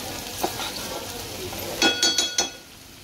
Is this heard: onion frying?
yes